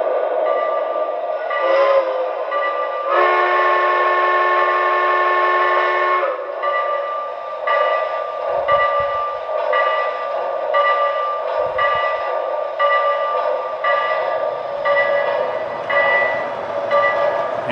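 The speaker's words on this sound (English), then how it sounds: "you're going to see a lot of D&M freight cars on hand when this train pulls up." A Lionel model steam K4s freight train in Detroit & Mackinac livery pulls up with freight cars, its steady rolling rumble loud and continuous, with a sustained whistle tone sounding early and wheel clicks throughout.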